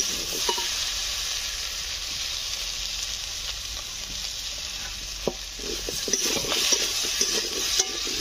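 Spices with salt and turmeric are stir-fried in a hot pan, a continuous bright hiss of frying with light stirring scrapes and clatter picking up near the end.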